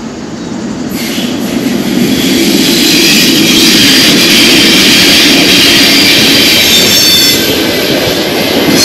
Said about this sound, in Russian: Встречаем поезд.